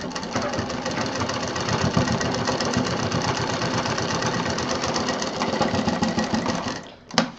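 A sewing machine stitching a sling bag runs in a fast, steady mechanical rattle of needle strokes, close and continuous, stopping near the end with a short clunk.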